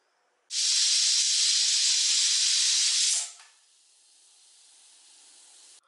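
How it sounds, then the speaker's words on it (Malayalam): Steam hisses from a pressure cooker nozzle while potato curry cooks, a loud steady hiss for about three seconds, then a much fainter hiss that carries on alone. "ആവി നോസിലൂടെ ആവി വന്നതിന് ശേഷം നമുക്ക് വെയിറ്റ് ഇട്ട് കൊടുക്കാം"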